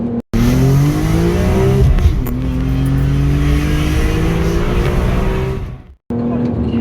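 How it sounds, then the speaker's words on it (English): A car with an SMG automated gearbox revs hard and climbs through the gears, each upshift marked by a rising engine note that drops and climbs again, loud and close from inside the cabin. "hearing the revs go up and then banging through the gears"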